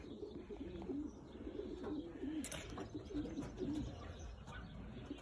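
Racing pigeons coo softly in a loft, repeated low rolling coos over a faint background with a few light chirps and a brief rustle, heard up close but quietly.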